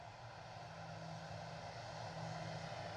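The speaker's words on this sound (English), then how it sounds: "So we do have an aircraft on final approach." An aircraft on final approach at Edinburgh Airport drones steadily at a distance, a continuous engine roar that swells slightly toward the end, with no voices.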